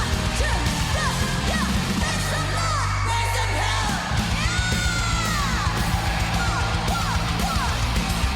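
Concert crowd at a live show yelling and whooping over loud, steady band music, with rising and falling shouts scattered throughout.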